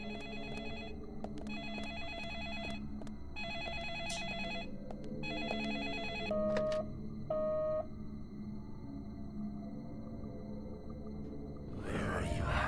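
A telephone ringing in the Deadly Premonition game, several evenly spaced electronic ring bursts, clear and fairly loud over a low ambient bed, then a couple of single beeps and a short noisy burst at the end.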